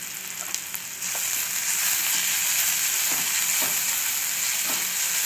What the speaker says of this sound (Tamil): வெங்காயம் வதங்கிடுச்சு. இப்போ கருவேப்பிலை போட்டுடலாம்.